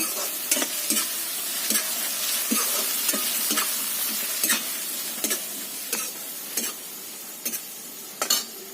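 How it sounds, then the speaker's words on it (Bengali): Onion frying in a pan gives a steady, close sizzle, broken by regular scraping taps of a spatula stirring it, with no voices. "পেঁয়াজটা ভাজা হচ্ছে"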